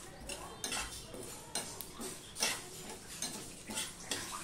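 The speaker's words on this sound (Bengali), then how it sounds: "1 চামচ পাঁচফোড়ন, 1 চামচ মৌরি আর 1 চামচ ধনে দিয়ে দিলাম। দিয়ে হালকাভাবে আমি এটা রোস্ট করে নেব হালকা আঁচে।" Panch phoron, fennel and coriander seeds dry-roast in a pan over low heat, with soft rhythmic scraping and light clinks of a spoon stirring them, quiet and close.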